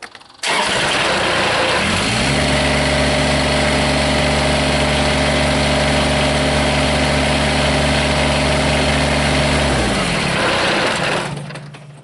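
A Kubota BX24 compact tractor engine, about 11 years old, cranks briefly and catches, then settles into a steady, loud, close idle with a low droning hum that runs evenly until it shuts off near the end.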